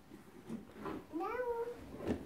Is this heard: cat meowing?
yes